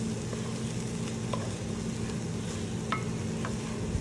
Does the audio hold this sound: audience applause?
no